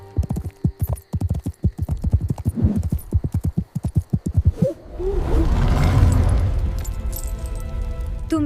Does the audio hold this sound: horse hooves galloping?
yes